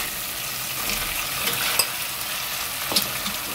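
Beef stir-frying in a pot for Korean beef radish soup, a steady close sizzle with a couple of sharp scrapes or clacks of a utensil against the pot, no voices.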